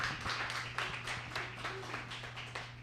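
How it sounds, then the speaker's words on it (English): A room of colleagues at a sales meeting gives a speaker a round of applause, steady mixed clapping over a low constant hum. "applause"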